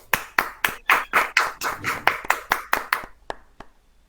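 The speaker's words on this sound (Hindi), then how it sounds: "जोरदार तालियां।" Rhythmic applause at a business meeting, about a dozen crisp, evenly paced claps from a group, fairly close, trailing off into a few scattered final claps.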